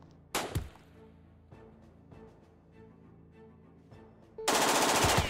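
Gunfire in Jagged Alliance 2: a sharp burst of shots, then quieter clattering, then a loud sustained machine-gun volley at the end, with no talk.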